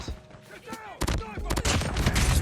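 MX9 submachine gun firing in Call of Duty Mobile, sharp close bursts of shots with pauses between, ending in sustained rapid fire amid game effects.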